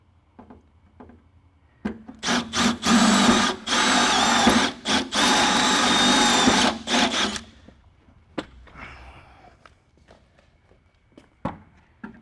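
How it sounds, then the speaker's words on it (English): A power drill whines loudly in several sustained bursts, biting through the metal fender of an MX5400 tractor, then stops, followed by a few light clicks and handling noises. "anytime you're going to be drilling through a fender, check the backside"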